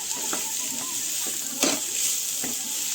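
Potatoes and snake gourd sizzle in a pan as they are stirred, a low frying hiss broken by a few sharp scrapes and clinks of the spoon against the pan.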